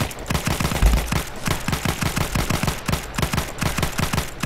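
Rapid bursts of automatic gunfire crackle through a Battlefield 1 online match, rhythmic shots repeating loud and close across the whole stretch with no talk over them.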